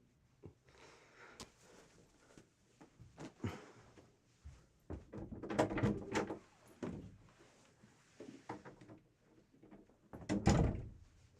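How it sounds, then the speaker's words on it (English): An indoor door swings open on its own in a quiet room, giving a few soft thunks and creaks spread over several seconds, with a louder knock near the end and brief muffled movement between. "The magic door that just opens."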